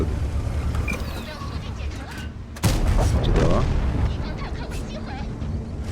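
Tank cannon fire in a tank video game, here a T-34-3 on the Mines map, with one heavy booming shot midway and its rumble trailing off, heard over the game's ongoing background noise.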